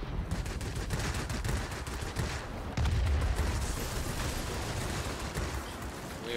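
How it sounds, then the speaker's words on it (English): Rapid aircraft gunfire in the World of Warplanes game, with a Russian Yakovlev Yak-3 fighter under attack, rattles as dense continuous bursts that swell louder partway through, mixed with engine roar. "We are taking fire."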